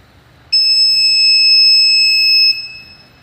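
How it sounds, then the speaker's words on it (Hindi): An inverter sounds its low battery alarm as a lead acid battery runs down, a loud steady electronic tone that starts abruptly and holds for about two seconds before cutting off. "बैटरी लो अलार्म बजना शुरू हो गया है"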